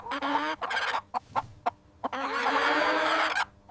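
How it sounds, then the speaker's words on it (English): A hen clucks loudly and close by, a run of short bursts followed by a longer drawn-out squawk. "H is for hen."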